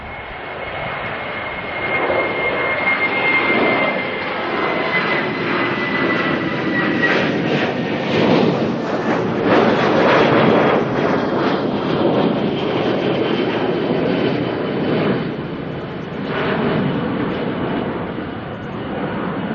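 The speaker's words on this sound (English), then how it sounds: "Got a 737 freighter heading on out." A Boeing 737 freighter jet takes off from Auckland Airport, bound for Christchurch with its engines roaring loudly and steadily throughout, a broad sustained rumble with no talk.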